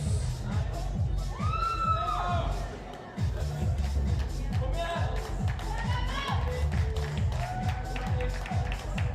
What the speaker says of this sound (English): Big round of applause for Love Andersson, everybody